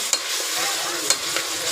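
Onion fries with ginger and garlic paste in a hot pan for pulao, a bright continuous sizzle broken by a couple of sharp spatula taps, heard close with no one speaking.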